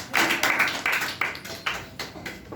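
An audience claps after a public speaking talk, with a run of distinct, fairly loud claps in an uneven rhythm that fades out over a couple of seconds, and no talking.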